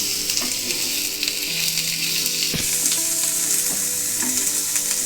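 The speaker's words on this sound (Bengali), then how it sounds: "দেখুন, এগুলো আমার হালকা ভাজা হয়ে গেছে।" Shrimp frying in a pan give a continuous bright, close sizzle with occasional crackles and stirring knocks, heard alone without talk.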